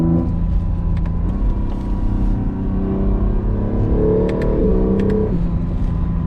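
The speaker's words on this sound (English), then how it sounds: "the actual V6 is making some noise" An Acura NSX hybrid's V6 engine revs in Sport Plus mode, loud and close, its pitch climbing and sweeping back down in a sustained, throaty drone.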